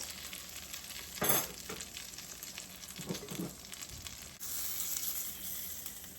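Food sizzles and chars quietly in a buttered frying pan, a soft continuous hiss with a few brief scrapes and knocks, close by and low in level.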